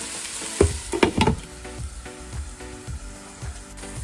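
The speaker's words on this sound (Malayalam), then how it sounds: "അപ്പം സവോള നല്ലവണ്ണം വഴന്ന് വന്നിട്ടുണ്ട്" Onions sauté in a pot for mutton biryani with a close, steady sizzle. A few clanking stirs of a spoon sound near the start, then the frying continues alone.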